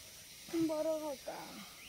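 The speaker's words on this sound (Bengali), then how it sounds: "কি সুন্দর পাখির আওয়াজ" Village birds calling outdoors in a rural Bengali setting: a clear, tonal, drawn-out call rises and holds for about a second, then a shorter second call follows. Both are moderately loud and close, over a quiet background.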